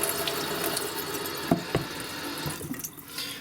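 Water poured over Under Armour HOVR Dawn hunting boots, a steady close splashing stream with a couple of sharper drips and splats midway before it thins out.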